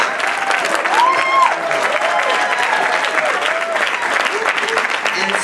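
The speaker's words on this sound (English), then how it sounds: "So once again, give yourselves a round of applause." A room full of people at a meeting claps in a sustained round of applause, loud and close, with some voices and whoops rising through the clapping.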